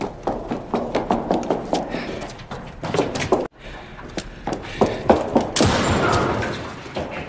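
A rapid series of sharp pistol shots, some in quick bursts, with a loud blast near the end and brief gaps between volleys.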